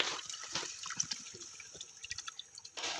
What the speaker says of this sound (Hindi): आप अपनी मर्ज़ी के मुताबिक जितना शोरबा रखना चाहते हैं पानी शामिल करें।